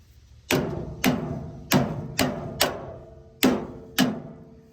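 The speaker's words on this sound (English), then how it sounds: "I'm just going to hit them with a hammer and see if they'll pop." Hammer blows on corroded exhaust flex-pipe clamps on a semi-truck exhaust: seven sharp metallic knocks at irregular intervals, each ringing briefly before fading, close and alone with no talk.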